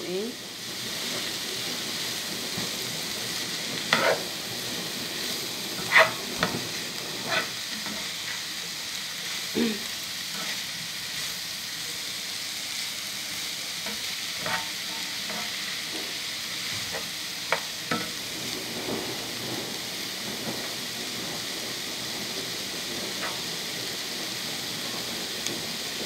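Broccoli frying in a pan with a splash of vegetable broth is stirred, giving a steady close sizzle broken by scattered scrapes and knocks of the utensil against the pan.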